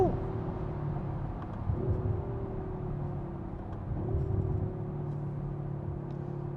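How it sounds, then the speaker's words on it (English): A 2021 Audi RS5 engine rumbles and rises in pitch through a couple of revs while driving in dynamic mode, the exhaust note swelling and falling with steady road noise underneath. "Man, this exhaust sounds good."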